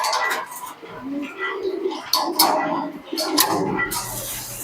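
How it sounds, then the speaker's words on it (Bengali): Pigeons coo and rustle inside a home pigeon loft that holds teddy pigeons, single birds and pairs, with soft repeated coos and chirps close by and some clatter and background noise. "কবুতরগুলো কতটা ফ্রেশ আছে, চলো আমার এই ঘরে তোমাদেরকে দেখাই"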